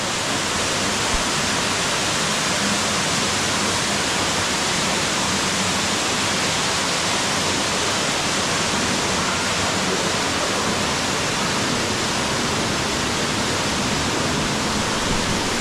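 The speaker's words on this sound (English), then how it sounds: "And the waterfall is massive." A massive waterfall thunders inside a large cavern in the Blue Mountains, a loud, steady, dense roar of falling water that fills the space without a break and with no voices.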